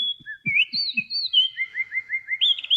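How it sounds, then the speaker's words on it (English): A bird chirps and whistles in a quick run of bright, rising notes, close and clear, over a few soft low thumps, with no voices. "No context, just a bird chirping."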